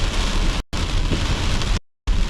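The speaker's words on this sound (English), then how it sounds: "It is just the rain, so here we go." Heavy rain pours down steadily during a South East Queensland storm, a loud dense wash broken by two brief gaps of silence.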